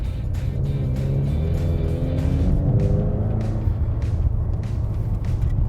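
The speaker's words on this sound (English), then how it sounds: "it definitely has a louder exhaust note than I'm used to with the EcoBoost" Ford EcoBoost four-cylinder with active exhaust in sport mode, a loud close engine note that rises and falls as it revs, with a faint turbo whistle and no voices.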